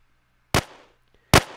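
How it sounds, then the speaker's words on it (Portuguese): Two sharp gunshots from a gunfire sound effect in a tale of Mexican cartel gunmen, each a loud, close crack with a brief rumbling tail, spaced about three quarters of a second apart with silence around them. "todos os capangas abriram fogo contra a janela de onde os tiros vieram"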